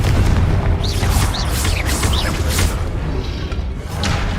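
A Confringo blasting spell in Hogwarts Legacy, heavy booming explosions that roll over one another amid whooshing spell effects and rising chirps, loud and dense throughout with no gaps.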